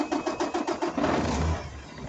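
A truck engine idles in a rapid, rhythmic chug that settles into a steadier rumble. It is close and fairly loud, with no talking.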